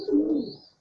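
A pigeon at a home loft full of pigeons gives a single short, close coo, a soft throaty rumble that swells and fades in under a second.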